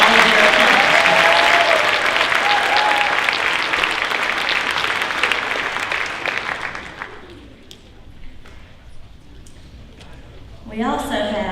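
An audience at a high school senior honors night applauds, a loud dense burst of clapping that gradually thins and fades before a voice begins speaking near the end.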